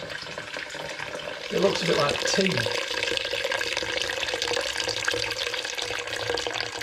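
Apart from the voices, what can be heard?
liquid running from tap of Muntons wine fermenter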